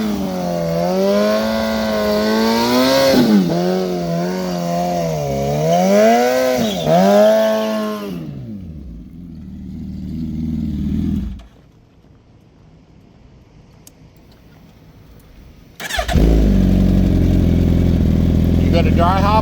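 Gen 3 Hayabusa drag motorcycle revving hard in the pits before a race, climbing and dipping through loud rising whines, then a lull, then a sudden roar as the throttle opens again.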